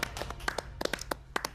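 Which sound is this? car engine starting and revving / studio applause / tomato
studio applause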